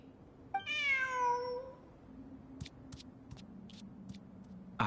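A cat meows once in Genshin Impact, a drawn-out, falling mew that stands alone, followed by a few soft ticking clicks against a quiet background hum.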